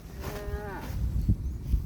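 Cattle on a rural farm give a single drawn-out moo with a wavering pitch, fairly close, followed by scattered thumps and rustling.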